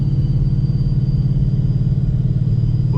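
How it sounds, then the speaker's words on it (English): A car driven late at night, heard from inside the cabin with the windows partly raised, gives a loud, steady low engine rumble and road drone that runs unbroken and close throughout. "The car's so loud."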